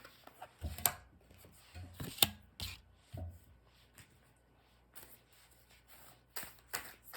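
A tarot deck being shuffled by hand at close range, with soft papery riffles and rubs in irregular bursts and brief pauses between them, no talking.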